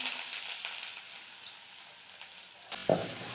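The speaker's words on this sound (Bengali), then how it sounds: "এবার দেব পেঁয়াজ কুচি।" Chopped onions go into hot mustard oil with whole cumin seeds, giving a soft continuous frying hiss, then a sudden louder burst of sizzle near the end as they hit the pan, close up and with no one talking.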